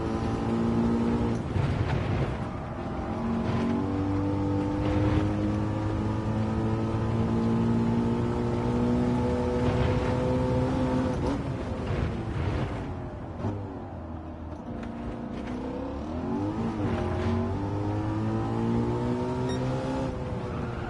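A Ford Mustang engine in Gran Turismo 7 at Laguna Seca drones steadily in third gear, its note bogging and sagging at points before pulling up again, loud and continuous with no talk.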